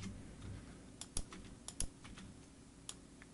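A URL typed into a web form on a computer keyboard, with quiet, quick key clicks in short bursts and a couple of sharper taps, close up with no talking.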